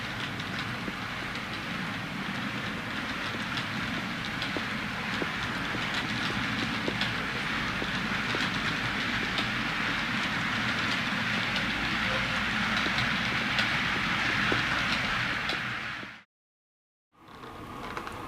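A model train runs steadily on a layout, a continuous close rolling rumble with faint rail clicks that holds evenly for most of the stretch before cutting out briefly near the end.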